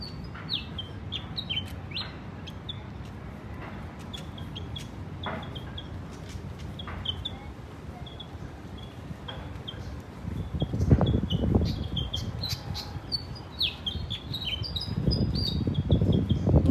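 Small birds chirp and tweet in quick, scattered bursts along the Iloilo River Esplanade, moderately near and steady over a low outdoor rumble that swells with passing noise toward the end.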